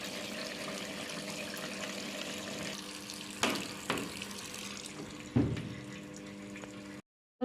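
Water runs steadily into a washing machine filling on an express wash cycle, a continuous hiss with a few soft knocks from the drum, then cuts off abruptly at the end.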